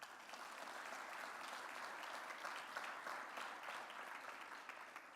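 An audience at an Akureyri sports awards ceremony gives a round of applause, steady and full but quiet and somewhat distant, lasting throughout.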